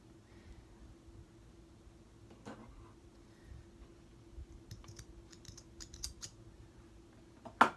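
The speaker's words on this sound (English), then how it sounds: "Cutting those strings." Scissors snip loose strings on a hoodie during sewing, faint snipping and light clicks over quiet room tone, growing busier near the end and finishing with one sharper cut.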